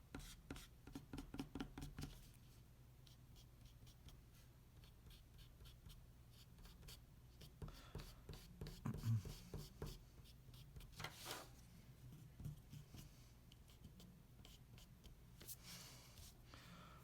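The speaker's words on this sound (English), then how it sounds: "I'm going to use my kneaded eraser because it does a good job of not burnishing the paper." A kneaded eraser rubbing out pencil lines on drawing paper, giving soft, quiet, repeated scratchy strokes close up, with a few faint bumps and rustles.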